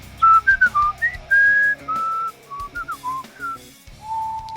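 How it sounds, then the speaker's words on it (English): A person whistles a lilting tune alone, clear and close, with short phrases and a few longer held notes. "Ooh, I like the whistling."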